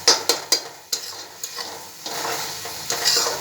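Aloo tikki chaat ingredients stirred in a pan, a utensil scraping and clinking in quick strokes near the start, then a steady soft sizzle of frying underneath, with no talking.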